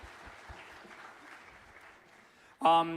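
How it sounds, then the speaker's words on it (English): Soft applause from a concert audience for a high school jazz ensemble, a low, faint patter of clapping that fades before a voice starts speaking loudly near the end. "Give them a nice warm applause."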